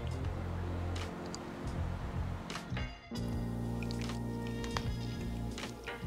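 Bourbon and brown sugar braising liquid is poured over smoked chicken in a pan on an offset smoker, giving wet squishing and dripping splashes with a brief pause partway through, close and moderately loud.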